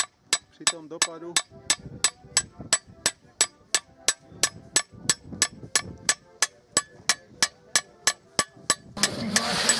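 Sharp metallic hammer blows ring out in a steady, rapid rhythm, about two or three per second, close and loud, with a brief noisy burst at the end, as a blade is forged to draw out its edge.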